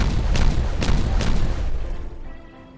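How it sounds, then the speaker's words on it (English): Detonation charges go off in Timberborn, a run of three or four deep, booming blasts in quick succession, loud and close, then a rumbling tail fading into quiet. "This is ready to be detonated."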